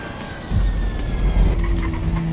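A jet airplane in the video game GTA 5 roars loud and close, a broad steady engine drone with a thin high whine that rises and swells partway through, with no speech.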